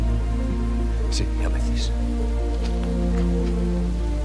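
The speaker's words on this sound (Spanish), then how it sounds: "Podía dejar de llover por una vez. No llueve eternamente." Rain pours steadily in a film scene from The Crow, a constant dense hiss with occasional drips, while people talk over it in Spanish.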